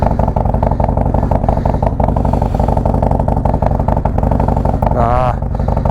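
A Harley Road Glide with a Stage 2 build and Khrome Werks Outlaw exhaust revs hard and loud nearby, a deep rumbling engine note pulsing steadily throughout with a brief rattly flutter near the end.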